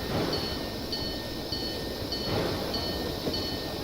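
A train running in the video game Train World, a steady rolling rumble with constant mechanical hum and faint periodic clicks, loud and continuous with no talk.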